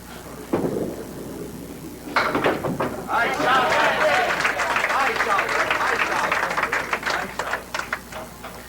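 A bowling alley crowd reacts to a shot in a televised match, with a brief burst of noise, then sustained clapping and cheering from the spectators that carries on loudly to the end.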